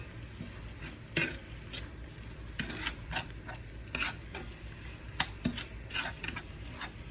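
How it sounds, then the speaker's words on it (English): Minced garlic frying in a pan with beef and fried rice, an irregular stirring sound of repeated spatula scrapes and bursts of sizzle over a low background hum, close and moderately loud. "I'll just let that garlic cook in a little bit before I take all this out"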